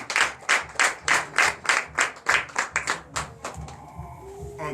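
A church congregation at a Sunday service in Benin claps in unison, sharp rhythmic beats at a steady tempo that break into looser clapping before fading near the end.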